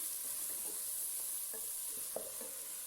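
Frozen tinda (ridge gourd) sizzles softly in a pan over low heat, a steady faint frying hiss with a few light stirring and scraping taps, and no talking.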